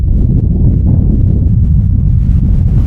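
Wind blowing at Roman ruins in Albania, a loud, steady low roar of wind buffeting the microphone, continuous for the whole stretch with no talking.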